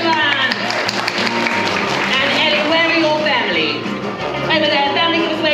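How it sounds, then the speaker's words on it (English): Applause and excited cheering rise from the audience at a kids' live show in a theme park, a busy mass of clapping mixed with children's voices and an amplified presenter. "Big round of applause"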